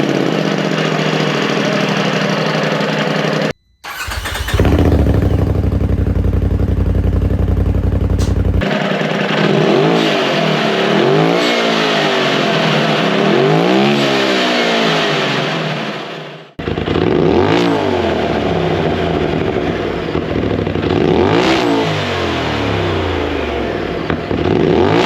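A 2020 Polaris RZR Pro XP UTV fitted with an RPM slip-on catless sport muffler revs hard and loud, with repeated rising and falling throttle blips across a steady idle and a brief drop to near silence between bursts.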